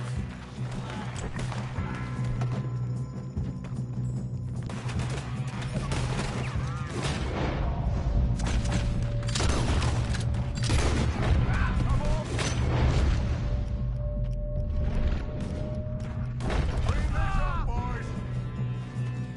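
A Red Dead Redemption 2 shootout with frequent loud gunshots cracking over a continuous low rumble of action, while several voices shout and talk over the firing throughout.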